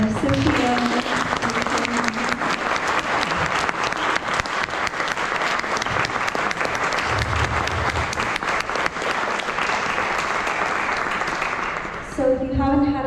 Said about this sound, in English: Can we get a big thank you and round of applause for Sofia?